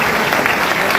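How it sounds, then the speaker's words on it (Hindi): Dense, steady applause from a seminar audience fills the room, a continuous wash of many hands clapping close and loud throughout without pause. "ताली तो बजाओ"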